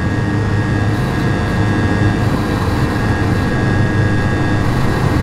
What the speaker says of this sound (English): we can see the burner is ignite